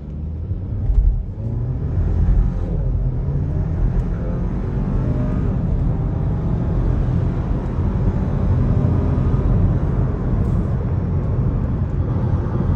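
A tuned Skoda Octavia Mk3 with three people aboard gives a deep, continuous engine rumble heard from inside the car. The rumble swells briefly near the start and then holds steady as the car drives on.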